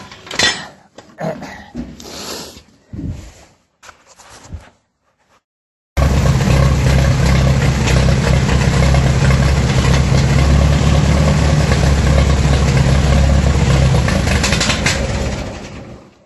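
After a few scattered knocks and a short silence, a heavy tractor engine starts and runs steadily with a deep, loud rumble before cutting out.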